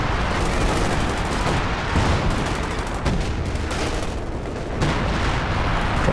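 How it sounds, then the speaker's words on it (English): Heavy gunfire and artillery booms fill a Company of Heroes 2 battle, a continuous loud barrage of overlapping shots and blasts with no pauses. "Drops the Major artillery."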